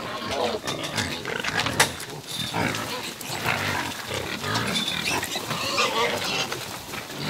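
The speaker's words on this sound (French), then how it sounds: "On a une autre bande de cochons" A herd of free-ranging pigs on a hillside in Corsica, grunting, snorting and squealing continuously at close range, with overlapping calls from several animals and occasional louder squeals over busy rustling.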